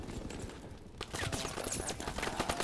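A video game shotgun fires in quick succession, sharp blasts crackling over a dense bed of battle noise, close and loud.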